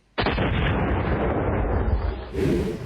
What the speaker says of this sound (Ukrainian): Лунає вибух.